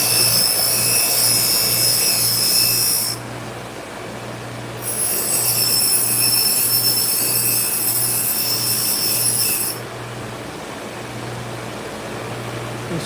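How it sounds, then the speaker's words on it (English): A motor-driven Scotch-Brite radial wheel is used to deburr serrated knives. It gives a loud, steady mechanical whine with a constant hum underneath, and a high hissing grind cuts in and out twice as blades meet the wheel. Nobody speaks. "this is a Scotch-Brite radial wheel, and it does a real good job of taking the burr off when I do the serrated knives"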